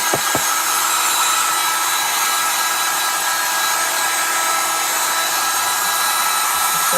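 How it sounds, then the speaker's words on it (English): Heavy-duty dryer blowing over chalk paint on a sunflower gnome, a loud, steady high-pitched whir that runs unbroken, with a couple of faint taps near the start. "I'm going to use my heavy duty dryer"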